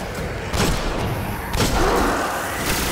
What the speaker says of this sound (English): I got a hand cannon. I'm gonna try it out.